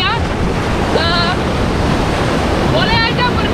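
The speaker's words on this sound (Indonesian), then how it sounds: "kita bisa lihat juga ombaknya sangat besar" Large ocean waves break on the beach at Pelabuhan Ratu, a loud continuous roar of surf mixed with wind buffeting the microphone, with brief voices cutting through twice.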